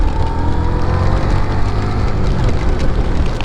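Heavy rain pours down during a solo motorbike ride, a dense, steady roar of water mixed with engine and road rumble, loud and continuous with no talk.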